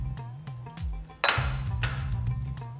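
Carrots, capsicum and cabbage hit hot oil in a pan for veg chowmein: a few light metallic clinks, then a sudden loud burst of sizzling that keeps going strongly.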